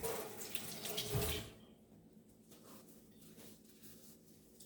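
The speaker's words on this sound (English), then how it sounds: "the next thing I'm gonna do is I'm gonna rinse my hands off." Hands are rinsed under a running kitchen tap: a splashing flow of water for about a second and a half, then the stream stops, leaving faint drips and quiet handling sounds.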